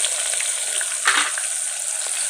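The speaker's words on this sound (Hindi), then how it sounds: "प्याज को अच्छी तरह भूनेंगे" Chopped onions frying in a pan with black peppercorns and cumin over high heat, giving a close, steady sizzle with a brief louder spatter burst.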